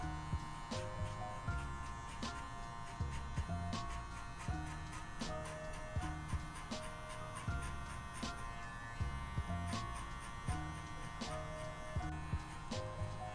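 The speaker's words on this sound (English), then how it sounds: "So the clipper open, we're about to go a finger high" Electric hair clipper buzzing close up while it cuts hair for a skin fade, a constant droning hum with a rhythmic rise and fall as the blade passes over the head.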